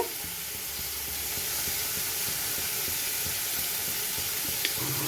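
Prawns sizzling in a thick, dry spice paste in a pan, with a steady close frying hiss throughout and a brief clink near the end, no voices.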